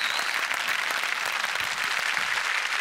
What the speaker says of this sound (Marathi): आणखी जोरदार टाळ्या व्हायला पाहिजे